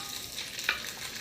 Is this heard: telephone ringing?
no